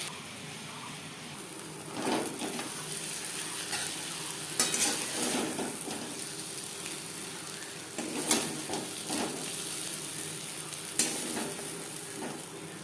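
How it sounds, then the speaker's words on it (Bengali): Spice paste frying in oil in a wok that was used for pointed gourd, a steady close sizzle with periodic louder bursts as it is stirred, no talk. "পটল ভেজে নেওয়া কড়াইতে আবারও তেল দিয়েছি, দিয়ে দিলাম মশলার পেস্ট"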